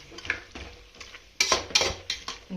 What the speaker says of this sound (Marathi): हे हलवून असंच झाकून ताट त्याच्यावरती ठेवणार आहे